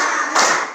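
A single sharp hand clap from a counted clapping exercise in a classroom, one close, loud burst followed by a short second impact.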